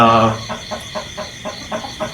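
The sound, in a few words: rooster clucking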